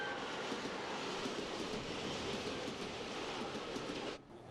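A subway train rolls into a station with a loud, continuous roar and rattle of wheels on track that fills the space, then cuts off abruptly near the end.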